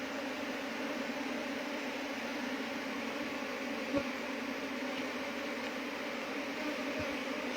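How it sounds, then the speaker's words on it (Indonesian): Worker honey bees buzz at a hive in a dense, steady hum that stays close and even throughout, with no voices. "Ini lebah pekerja."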